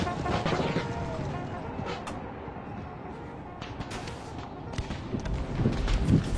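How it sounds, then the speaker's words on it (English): Troops in a video game fire volleys of gunfire, a dense continuous crackle of shots and booms rumbling throughout with no pause. "shooting off some volleys"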